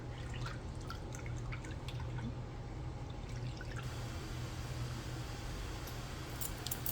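Thickening batter for Singkawang-style shrimp talam cake stirred in a pot over the stove, giving a steady wet, squishy churning with soft drips and slaps, continuous and close, with no talk.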